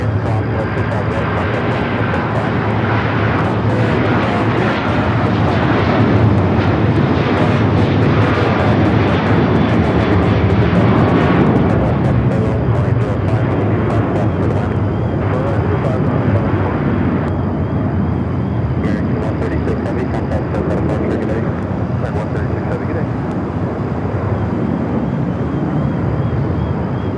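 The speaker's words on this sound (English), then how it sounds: "Lufthansa A350, flight 453, heading back to Munich. Heading here for south side takeoff." A Lufthansa Airbus A350 taxis for a south side takeoff at night at Los Angeles International, its engines a loud, sustained jet roar, with voices speaking under the noise.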